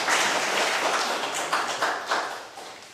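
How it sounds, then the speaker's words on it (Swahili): Schoolchildren in a classroom clap their hands together for a classmate, a dense, steady patter of many hands with a few louder claps standing out, fading slightly toward the end. "Mpigeni makofi."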